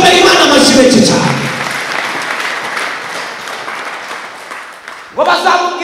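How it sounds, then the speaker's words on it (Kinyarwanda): Worshippers in a Rwandan church clap in loud applause that starts over a speaking voice, then rolls on as a dense wash of clapping and gradually thins before the speaker begins again. "Komera Imana amashyi menshi cyane."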